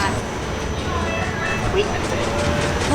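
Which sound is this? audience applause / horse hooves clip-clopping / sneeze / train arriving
train arriving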